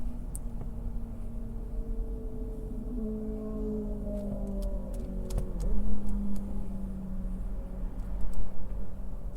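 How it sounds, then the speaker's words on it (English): A 2024 Toyota RAV4 Limited Hybrid driving on its 245-volt battery in full EV mode, with a low steady electric motor whine and road rumble that shifts gently in pitch, plus a few brief cabin clicks. "Now we're in the full EV mode, so you'll be only running on the 245-volt battery with 118 horsepower."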